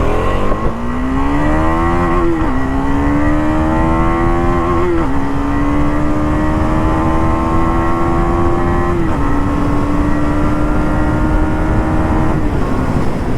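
A Husqvarna Svartpilen 250 motorcycle accelerates hard on an open road, its loud, close engine whine climbing steadily through several gears, with brief dips at each shift before it pulls higher again.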